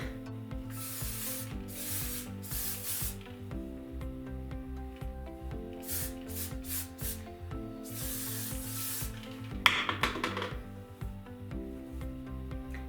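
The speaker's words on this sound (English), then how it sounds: "I'm gonna hairspray it a little bit." Hairspray sprayed onto teased hair in several short hissing bursts, each lasting a second or two, heard clearly over steady background music.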